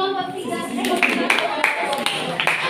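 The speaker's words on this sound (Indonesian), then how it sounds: "kasih aplaus dulu untuk kelompok" A classroom group claps together in a short burst of steady, close applause while a voice speaks over it.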